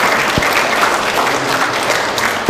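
A church congregation applauds loudly and steadily through a Mother's Day service in Vancouver, dense clapping filling the room from start to finish, with no voices rising above it.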